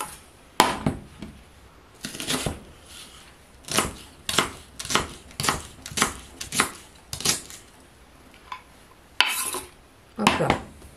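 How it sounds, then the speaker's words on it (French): A knife chops an onion on a cutting board during soup preparation, giving a run of about a dozen sharp, close knocks in irregular rhythm with short pauses between them and no talking. "Dans la foulée, j'ai coupé l'oignon."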